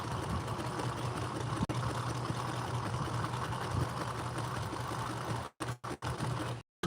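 A sewing machine stitches through denim in a steady, continuous mechanical whir that runs close and loud for several seconds, then stutters and stops in short bursts near the end.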